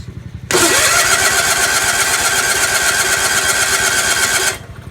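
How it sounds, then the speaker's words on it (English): A cold loader engine, unused for about three weeks and with a sticking choke, cranks briefly then catches and runs at a loud, steady, fast idle for several seconds before cutting off abruptly. "Gotta cold start the loader so we can get it out"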